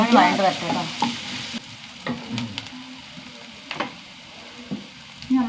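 Three large green chillies frying in a hot pan, a continuous loud sizzle with stirring scrapes and clatter close by, alone.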